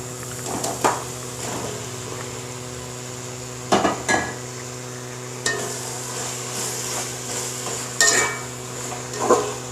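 Chicken sautéing in a pot for chicken dum biryani, a low steady sizzle under a constant hum, punctuated by several sharp clanks of a spoon against the metal pot at irregular intervals.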